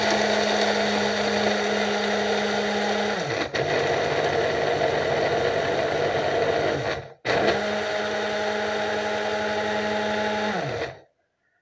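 An electric blender grinds dry eggshells into scouring powder, a loud, harsh whirring roar that runs in bursts, dips briefly, cuts out for a moment, resumes, then stops abruptly.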